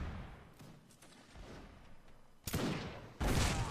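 Musket and cannon fire in a Napoleonic Wars line-battle game on a dune battlefield, faint distant scattered reports, then two loud, sharp close volleys near the end.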